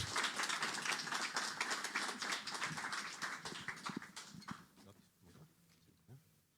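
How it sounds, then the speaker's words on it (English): An audience gives a round of applause at a final group presentation, dense clapping that is fairly faint and gradually thins out into a few scattered claps. "a round of applause for our green team"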